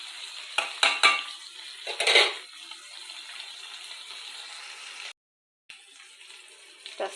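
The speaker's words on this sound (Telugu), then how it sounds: "పెద్ద ఉల్లిపాయ పీసెస్ ఆయిల్తో కర్రీ లీవ్స్, పోపు మసాలా సీడ్స్ ఏ విధంగా ఫ్రై అవుతున్నాయండి." Onion pieces, curry leaves and seasoning seeds fry in hot oil with a steady hiss. A few clattering stirring knocks come early, the sizzle breaks off briefly near the end, then resumes. No one speaks.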